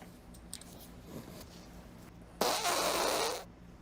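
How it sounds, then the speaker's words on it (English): A loud, sputtering fart rips out close to the microphone for about a second, standing alone after a quieter stretch of faint room noise and small handling sounds. "He farts into his own camera"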